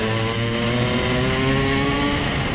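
A mini motorcycle racing around a circuit during a mini-moto grand prix, its small engine buzzing loud and close with a steady high whine.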